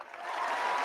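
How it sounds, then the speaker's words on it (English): A canned applause sound effect swells quickly from near silence into a steady wash of clapping from a fake studio audience, short and fairly loud. "Fake round of applause"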